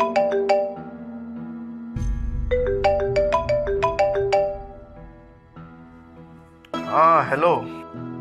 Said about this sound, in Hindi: असद मैं कितनी देर से कॉल कर रही थी, क्यों नहीं उठा रहे थे?